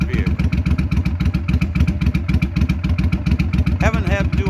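An old 21-year-old vehicle engine runs steadily with its choke held open, a loud, close, rhythmic mechanical chugging and clatter throughout, with a brief higher whine near the end.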